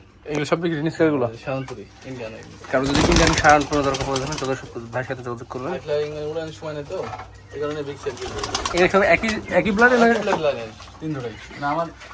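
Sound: pigeons cooing

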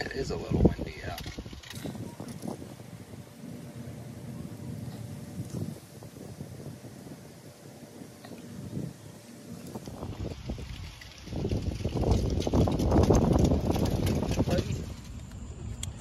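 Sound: wind blowing outdoors

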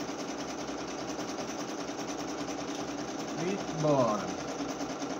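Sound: sewing machine stitching patchwork dish towel

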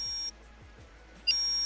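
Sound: alarm beeping on a boat in video game Stormworks

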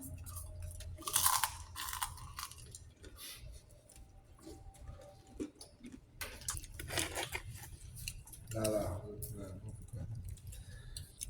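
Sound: eating and chewing kunafa dessert

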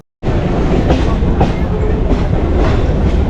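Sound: train arriving at Lakshmikantapur station

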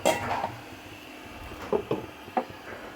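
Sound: covering the pan of rohu fish curry with a lid

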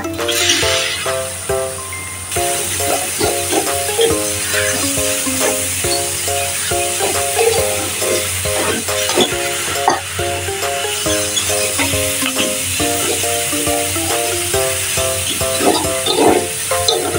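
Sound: pork belly stir-frying in a pan for Thai basil stir-fry

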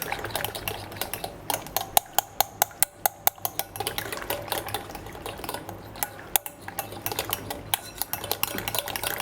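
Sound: pouring sauce into lentil soup while stirring

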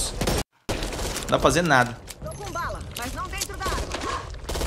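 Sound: gunfire in the video game Back 4 Blood

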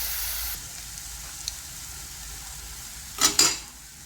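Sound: tomato puree being fried in a pan for amti

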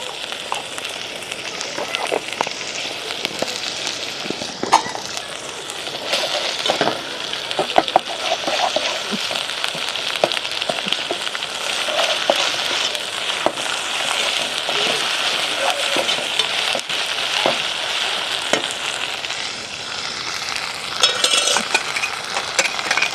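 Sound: goat intestine (boti) frying with ginger garlic paste

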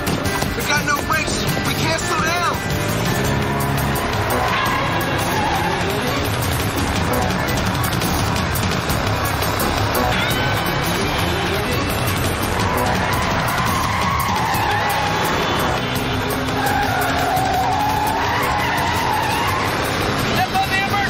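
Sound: car with failed brakes skidding in a hard turn

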